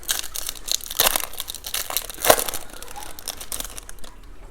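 Foil wrappers of WWE Topps trading card packs crinkle and tear in a run of dry, crackling bursts, loudest around two moments, recorded up close with no talking.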